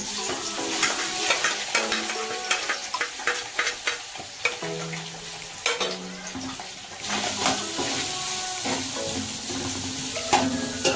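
Chicken and vegetables fry in oil for chicken Manchurian, loud and close, with crackling sizzle and frequent rhythmic scrapes of a spoon stirring the pan, no talk.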